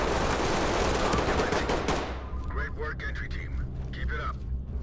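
A dense burst of rapid gunfire in the game Ready or Not fills the first two seconds, then fades as a voice talks over quieter game sounds.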